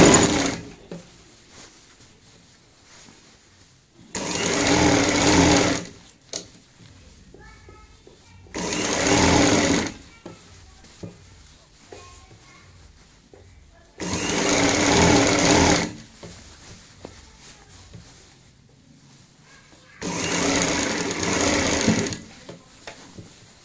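A sewing machine stitches fabric around a waste-bucket stool in four loud, close bursts of rapid whirring, each lasting a couple of seconds, with quiet pauses and handling noises between them.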